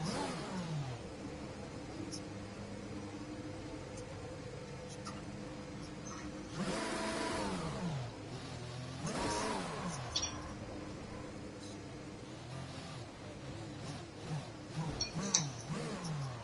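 Racing cars from a racing video game circling a circuit on parade laps, steady mid-pitched engine drone with several louder passes and revving swells, continuous throughout.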